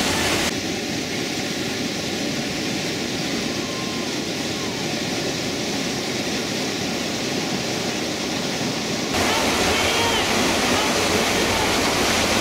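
Whitewater rapid on the Gauley River roars as a steady, loud, broadband rush of churning water throughout, with no voices over it.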